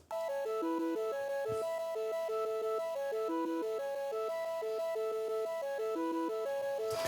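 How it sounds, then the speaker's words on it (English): Organ sound carrying a repeating melodic pattern in a music track, a steady stepwise figure held over a full mix for several seconds, loud and continuous with no speech. "this kind of organ sound"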